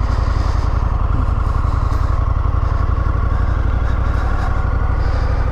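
An Indian FTR1200 motorcycle engine runs close up with a loud, steady, even rumble that holds throughout, with no talking.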